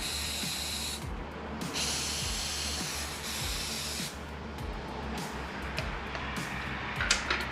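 Ether sprayed from a can into the airbox of a 1989 Kawasaki GPX750R motorcycle, sustained hissing bursts, the longest one a few seconds, over a low steady rumble, close by.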